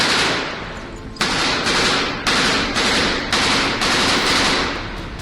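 Sustained bursts of machine gun fire during heavy fighting at the Azovstal steel plant in Mariupol, loud and close, with rapid repeated volleys broken by short pauses.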